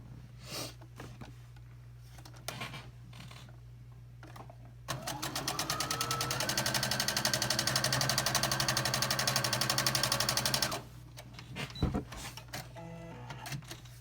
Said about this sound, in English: So now we're going to sew straight down this line.